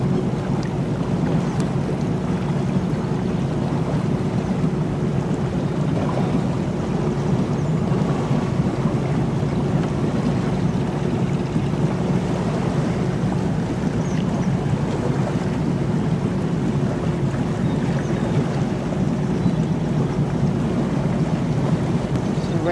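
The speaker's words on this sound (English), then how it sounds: "So right now we're on our 32-foot cabin cruiser." A 32-foot cabin cruiser under way on open water, with a steady engine drone, rushing water and wind noise on the microphone continuing evenly throughout, with no talking.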